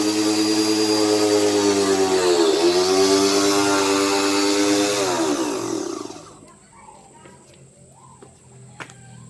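A steam jet cleaner machine runs loud and close with a steady droning motor hum, its pitch dipping briefly, then cuts out after about six seconds, leaving faint handling clicks.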